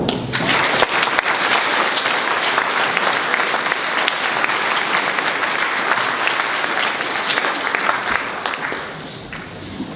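A school speech-day audience gives sustained, dense applause for senior prize winners. The clapping is loud and close and steady for about nine seconds, then tapers off at the end.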